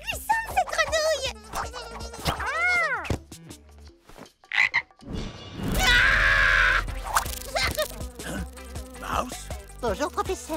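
A cartoon frog croaks in a series of short, warbling calls mixed with buzzing insect-like sounds, alongside animated character voices.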